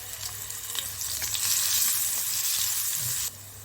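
Finely chopped green chili and a pinch of asafoetida dropped into hot oil, setting off a loud, close sizzle that swells, holds steady, then drops off sharply near the end.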